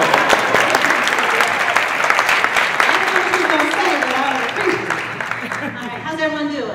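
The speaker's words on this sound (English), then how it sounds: "Y'all can clap." An audience at a fireside chat event claps loudly and steadily, a dense wash of applause that tapers slightly toward the end while a voice talks faintly underneath.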